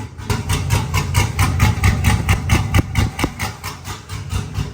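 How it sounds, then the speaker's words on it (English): A Cadillac Escalade idles in neutral with its exhaust cutout open, giving a loud, steady rumble with rapid, rhythmic pulses and a slightly uneven lope from close by, with no voices. "Exhaust cutout works perfect."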